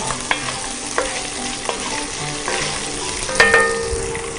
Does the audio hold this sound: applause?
no